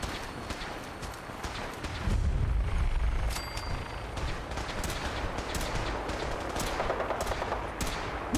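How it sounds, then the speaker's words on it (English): Sustained gunfire in the video game Fallout 4, a continuous rattle of rapid shots with a heavier low thump around the middle, heard at moderate distance and continuing steadily to the end. "What are they shooting at?"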